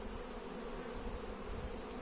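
A dense, steady buzz of many honeybees swarms around an open hive during an autumn inspection before wintering, a continuous hum at low level with no voices.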